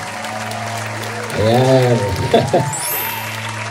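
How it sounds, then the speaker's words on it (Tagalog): Wedding guests clap for the newlywed couple, a broad burst of applause swelling midway under a voice at the microphone, with talk before and after. "Mas malakas ho na palakpak!"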